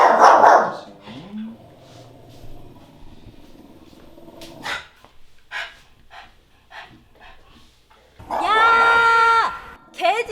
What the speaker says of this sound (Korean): 개 짖는 소리 좀 안 나게 해라!